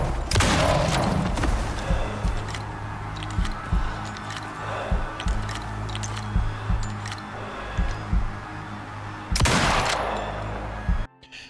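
Gunfire at a charging polar bear in the survival video game Icarus: a dense opening burst, then scattered irregular shots and impacts, ending in another heavy volley, loud and close with no talking.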